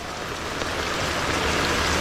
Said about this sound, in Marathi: खतरनाक असा पाऊस पडत आहे आपल्या इथे.